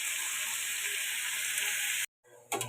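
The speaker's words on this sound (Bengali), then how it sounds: "আলু পেঁয়াজটা ভেজে আমি ফিরে আসছি।" Potatoes and onions with a little salt fry in oil in a pan, sizzling with a steady, close hiss that cuts out briefly near the end before resuming.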